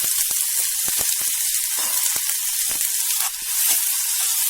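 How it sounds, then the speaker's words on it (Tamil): Onions sizzle loudly in leftover oil in a pan while being sautéed for a mixed chutney, a steady dense hiss with occasional crackles and stirring clicks, close and continuous with no talk. "இந்த சட்டிலேயே மிச்சம் இருக்கிற எண்ணெயில வெங்காயத்தை போட்டு வதக்கிக்கலாம்"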